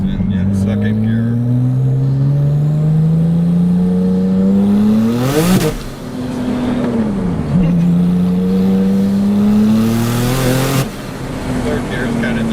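A 1000whp Porsche Turbo accelerates hard through the gears, its engine climbing in pitch with a loud, close roar and dropping sharply at each of two quick upshifts, while people inside talk over it.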